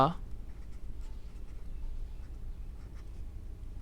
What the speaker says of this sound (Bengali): বাংলায় লিখে দিচ্ছি